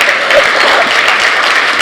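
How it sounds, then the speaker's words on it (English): Loud, close applause from an audience at an art summit keynote, a thick continuous wash of clapping holding steady from start to finish. "I clap for Lebanon"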